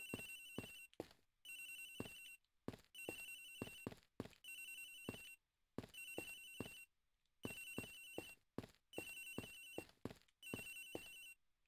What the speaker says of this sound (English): How loud is this phone? I don't know, man. Some ringtones just are loud.